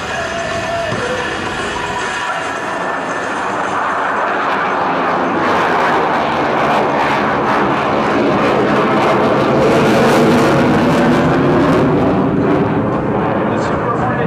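An F/A-18F Super Hornet jet roars loudly and continuously through demonstration manoeuvres at an air show, its engine noise swelling and shifting in pitch as it passes, with a commentator talking over it.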